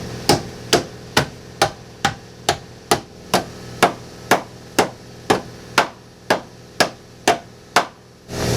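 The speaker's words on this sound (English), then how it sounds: "take the liner and tap it straight in" Wheel-well liner on a 2011 Jeep Grand Cherokee being tapped into place during a suspension install: about fifteen sharp, evenly spaced knocks roughly half a second apart, close and loud, with no talking.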